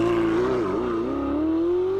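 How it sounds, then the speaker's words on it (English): A 2016 Ferrari 488 GTB's twin-turbo V8 roars steadily from behind the cabin during a road drive, its loud, sustained engine tone dipping slightly then climbing again as it pulls. "I love the sound of a twin-turbo V8 roaring from behind me"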